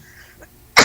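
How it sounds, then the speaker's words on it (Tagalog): A woman gives a single short, sharp cough close by, loud and abrupt after near silence. "naubo na si madam mo"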